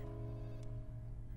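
A telephone rings for an incoming call, giving a short, steady electronic tone that is fairly faint and heard alone.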